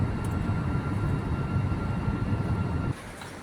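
Steady low cabin roar inside a domestic flight boarded at Nedumbassery airport bound for Mumbai, a constant dense rumble with no talk that drops sharply in level near the end.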